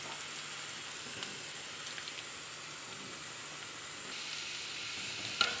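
Cumin, ginger and garlic fry in hot mustard oil in a pan, giving a continuous, even sizzle and hiss, with a brief clatter of utensils near the end.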